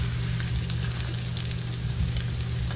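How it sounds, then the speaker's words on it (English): Salmon burgers with onion sizzle steadily in a hot frying pan, a constant crackling hiss with small pops, moderately quiet and unbroken by voices. "salmon burgers in the pan and let them cook, let them brown on each side."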